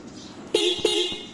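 A car horn with a weak sound honks twice in short blasts, loud and close, with steady background noise and a faint third toot trailing off.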